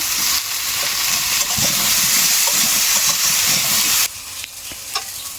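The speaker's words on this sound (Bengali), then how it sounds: "এবার লবণ হলুদ দিয়ে ঢেকে নিয়ে কষাই করে নিয়ে তারপরে মাছটাই দিয়ে দেবো" Spices for a fish curry frying with salt and turmeric in a pan, a loud, close, continuous hissing sizzle with faint stirring scrapes that drops abruptly to a quieter simmer near the end.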